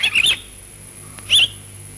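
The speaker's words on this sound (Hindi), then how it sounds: "देख कितनी सुंदर चिड़िया।" A bird gives two short, bright bursts of chirping, close and loud, separated by a quiet pause, with no talking.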